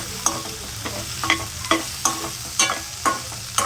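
Tomatoes fry in a pan as the base of a green masala chicken gravy: a low continuous sizzle under quick, evenly spaced stirring scrapes and clicks from a spoon, close up, with nobody speaking.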